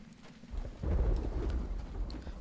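Rain and rolling thunder in the game Uru: The Complete Chronicles, a steady wash of rainfall with a deep rumble swelling midway and lingering to the end, with no voices.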